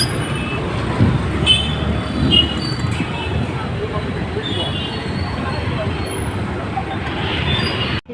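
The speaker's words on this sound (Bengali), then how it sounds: "দেখো ব্যাঙ্গালোরের ট্রাফিক" Continuous Bangalore city traffic rumbles nearby, a steady wash of engine and road noise with a faint honk here and there.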